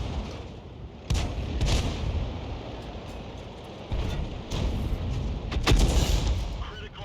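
Heavy tank guns firing in a video game battle involving the Bishop: three or four booming shots spaced seconds apart, each followed by a low rumbling tail over steady background noise.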